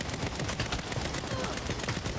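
Rapid gunfire from the Saints Row video game, a dense, steady crackle of repeated shots running the whole time at even loudness.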